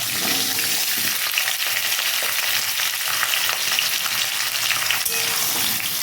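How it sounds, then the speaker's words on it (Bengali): Cut potatoes fry in a pan with green chillies, giving a loud, unbroken sizzle and crackle close by, with faint stirring through it and no talking. "আলুগুলো কিন্তু এইভাবে ভাজতে হয় বন্ধুরা"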